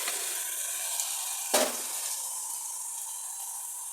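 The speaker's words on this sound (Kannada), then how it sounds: "ಸ್ವಲ್ಪ ನೀರು ಹಾಕ್ಕೊಂಡು ತಿರುಕೊಂಡು" Water splashes into a pan of baby corn kurma with ground masala and is stirred in, giving a steady close hiss broken by one brief sharp splash midway.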